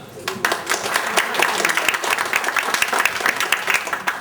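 A school audience at a Teachers' Day celebration applauds a performer taking the stage, a dense, steady wash of many hands clapping for about four seconds, with some voices mixed in.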